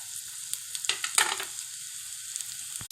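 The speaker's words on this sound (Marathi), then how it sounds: "आता मी ह्या सर्व भाज्या घालून परतून घेणार आहे" Mixed vegetables being stir-fried in a pan with ginger-garlic paste for veg fried rice, a steady soft sizzle with a few brief stirring clatters, fairly quiet and without talk.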